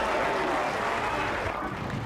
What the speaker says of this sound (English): I want you to applaud when it comes up.